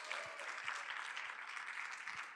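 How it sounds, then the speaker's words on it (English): Steady audience applause at a Pan American conference live session, a dense, even wash of clapping lasting a couple of seconds at moderate distance, with no talk over it. "Let's give him a big round of applause."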